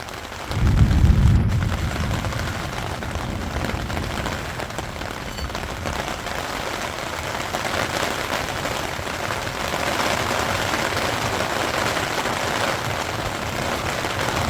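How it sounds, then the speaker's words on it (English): Hail falling outdoors in the Australian outback, a dense continuous hiss and patter of ice striking surfaces, steady throughout after a low thump at the start, no voices. "Fucking hail."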